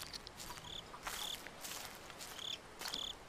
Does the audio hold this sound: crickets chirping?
yes